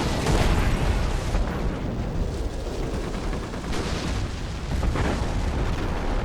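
Artillery fire and explosions in a Company of Heroes 3v3 Operation Market Garden match, a dense, continuous rumble of booms and bursts with a few louder blasts, with no voices.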